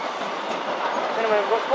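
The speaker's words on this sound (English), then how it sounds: "Here comes the Greenford train." A Greenford train passing on a railway, a steady close rumble of wheels on track with a faint squeal near the end, and a voice talking over it.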